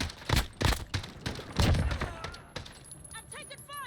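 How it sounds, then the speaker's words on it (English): Rapid bursts of gunfire and thudding impacts in a Call of Duty: Modern Warfare match, dense and punchy at first, then easing off under quieter game effects. "I'm taking fire."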